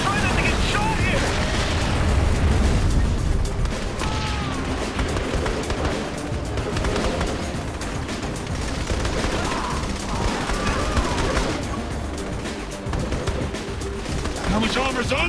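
Heavy gunfire and explosions rage nonstop in the video game Saints Row The Third, loud and dense, with shouting voices over the battle.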